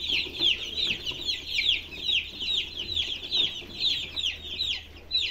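Baby chicks in a new cage peep continuously, a dense chorus of high, rapid chirps pulsing in waves throughout, close and fairly loud with faint background rustling.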